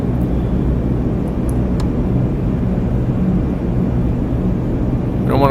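Continuous heavy drone of C-130 turboprop engines in Microsoft Flight Simulator 2020 as the throttle is advanced, a loud, dense rumble that swells slightly toward the end, with no talking.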